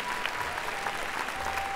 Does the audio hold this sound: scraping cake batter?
no